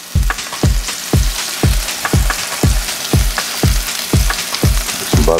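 Butter sizzling loudly on a hot griddle under slices of Texas toast, with a steady frying hiss broken by a regular series of sharp scraping strokes, about two per second.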